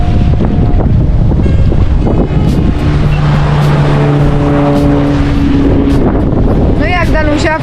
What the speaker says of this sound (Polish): Znaczy zimno nie jest, tylko że wiatr jest mocny.